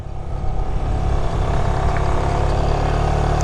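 Honda Grom motorcycle carrying a passenger, its small engine droning loudly and continuously at low speed in first gear, with slight rises and dips as the throttle is eased on and off.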